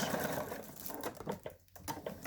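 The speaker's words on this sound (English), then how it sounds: "so I'm going to back stitch" A sewing machine back stitching a crinkle fabric lap pad, running with a fast steady mechanical whir close by, briefly pausing near the end before resuming.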